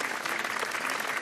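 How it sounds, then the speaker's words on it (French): Steady audience applause fills a comedy show hall, dense and even throughout, a broad wash of many hands clapping with no voices rising above it. "Vous pouvez applaudir, hein,"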